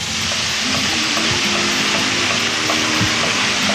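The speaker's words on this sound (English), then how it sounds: "I'm now going to add my sofrito that we talked about before, which is the tomato," Tomato, capsicum and fennel sofrito sizzles steadily in a paella pan with chili, a loud close frying hiss that holds unbroken throughout with faint stirring clatter and no talk.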